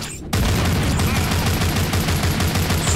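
Sustained automatic gunfire mows down zombies in The Walking Zombie 2, bursting in abruptly after a short lull and continuing as a loud, rapid stream of cracks.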